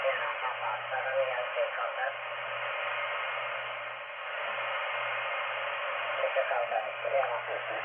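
Kenwood TS-820S radio receiving the 20 metre amateur band during the SPDX Contest 2024: band-limited hiss with faint distant voices fading in and out, heard close and fairly quiet.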